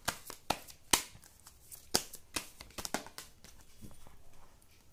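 Tarot cards being shuffled and drawn during a Hindi tarot reading: a run of sharp papery snaps and riffling flicks, several crisp accents early on, then a softer continuous shuffle, close and fairly quiet with no talk.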